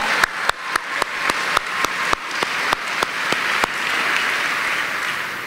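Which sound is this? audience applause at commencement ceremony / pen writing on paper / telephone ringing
audience applause at commencement ceremony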